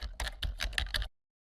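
A short burst of keys pressed on a computer keyboard in Microsoft Word, about seven or eight close, clicky taps in quick succession before falling silent.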